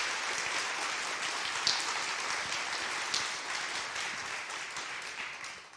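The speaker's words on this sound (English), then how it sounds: "If we can have a round of applause for our secondary educators." An audience at a county school awards ceremony applauds secondary educators with sustained, fairly quiet, even clapping from a roomful of people, and a few sharper claps stand out now and then.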